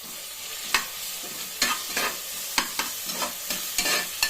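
Onion and tomato frying in a pan for a Mysore-style kaal (trotter) soup, a continuous sizzle under a series of sharp, uneven stirring scrapes and taps, close up with no voices.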